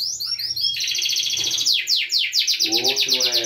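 Young bird chicks chirping close by in a steady run of high, rapid tweets with no talk over them.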